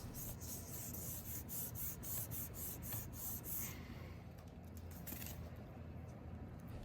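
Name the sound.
fingertips rubbing paper pressed onto printmaking foam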